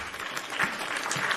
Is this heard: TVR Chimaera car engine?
no